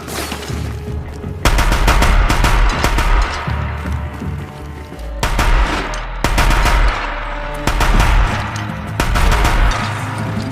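An automatic gun fires in bursts in a video game, rapid loud volleys of shots separated by brief pauses, close and dense over about ten seconds.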